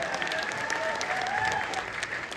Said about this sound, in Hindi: अब तक का कवि सम्मेलन आपको कैसा लगे, तालियां बजा करके बता दीजिए